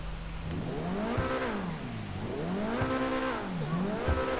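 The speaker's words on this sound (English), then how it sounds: "Backfire's quite nice" A Invetero Coquette D10, modeled on a 2020 C8 Corvette, in the video game GTA Online, revs repeatedly with rising and falling engine pitch and sharp popping backfire cracks between revs, loud and steady throughout.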